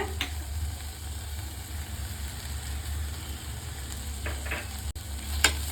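Onions sautéing with turmeric powder for wheat sambar give a steady, moderately loud sizzle over a low hum, with a few brief scraping stirs near the end.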